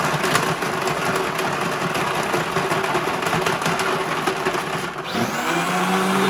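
Blender on its shave setting crushing ice for a margarita, a loud grinding whir with rattling ice that runs steadily, then dips and restarts near the end.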